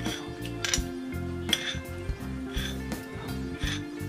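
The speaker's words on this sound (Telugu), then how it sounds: "ఈ గిన్నె పెట్టుకుందాం. ఈ గిన్నెలో ఇంత నూనె పోసుకుందాం." A pot is set down on a home kitchen stove with clanks and clinks of metal cookware, followed by oil poured in, a few sharp knocks punctuating the clatter while making curry for puri.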